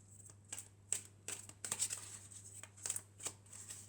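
Toi et Moi oracle cards being shuffled by hand in soft, quick riffling bursts, quiet and close, with short pauses between shuffles over a faint low hum.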